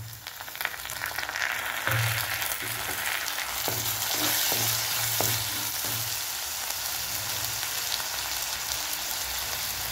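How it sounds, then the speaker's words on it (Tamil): Chopped tomato is added to onion, green chili and curry leaves frying in oil for Tamil-style rava kichadi, producing a loud, close, continuous sizzle with rhythmic stirring scrapes and spoon taps throughout, and no talking. "இப்போ தக்காளி போட்டுக்கலாம்."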